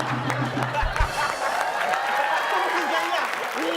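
Studio audience applause on an Indonesian comedy show, a dense steady wash of clapping holding at an even level for a few seconds, with a voice briefly audible at the start.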